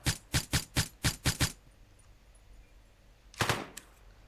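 Gunfire in the One-Armed Robber video game during a jewellery shop robbery: six sharp, evenly spaced shots in quick succession, then a pause and a final louder burst, all fairly close and without talk.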